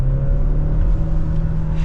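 Turbocharged engine of a 2024 Dodge Hornet R/T Plus Blacktop with EAWD pulls steadily under acceleration, a low droning rumble with a constant whir heard from inside the cabin, continuous and fairly loud with no talking.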